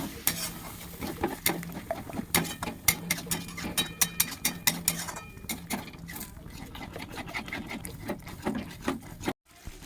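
Spatula scrapes and clatters rhythmically in a pan over a soft sizzle while potato and soybean masala with kasuri methi is stir-fried, close and busy.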